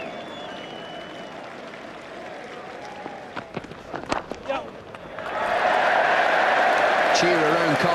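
A cricket crowd at Cardiff during an Ashes Test breaks into a broad, loud cheer and applause in the second half, after quieter murmuring and a few sharp knocks, with a commentator speaking.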